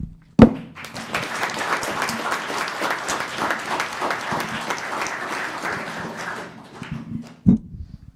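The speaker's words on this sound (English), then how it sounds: "One more round of applause, they deserve it." A room full of people at a town council meeting in Los Gatos applauds steadily for about seven seconds, dense and even, framed by two sharp knocks at the start and end.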